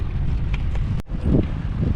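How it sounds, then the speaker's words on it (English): Strong wind buffeting the microphone during a 50-mile bicycle ride, a continuous low roaring rush with a brief dropout midway, close and loud, no talking. "Yeah, we're fighting the wind now."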